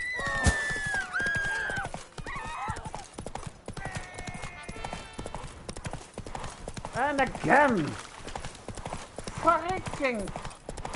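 Horse hooves clip-clop rhythmically as the horse Roach gallops in The Witcher 3 video game, with whinnies and neighs rising through the middle and a player talking and exclaiming over it.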